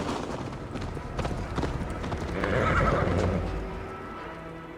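Horse in Assassin's Creed Valhalla galloping with rhythmic hoofbeats, then letting out a loud, close neigh midway, all alone with no talk.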